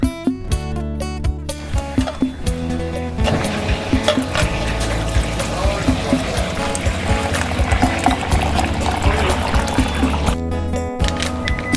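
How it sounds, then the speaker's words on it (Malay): Water pours into a cup while coffee is made at home, a continuous liquid splash and trickle over several seconds, bracketed by short clinks and knocks of cups and utensils at the start and end. "Buat kopi dululah."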